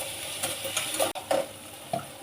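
Soft sizzling with occasional spoon scrapes as curry leaves and coriander are sautéed in a pan for vanjaram fish curry, low and steady close up.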